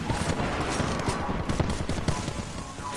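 Rapid, loud automatic gunfire in Apex Legends, a dense continuous rattle of shots close by, with brief player voices mixed in.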